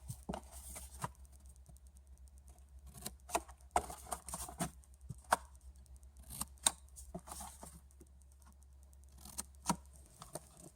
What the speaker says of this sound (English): You're going to snip to your corners.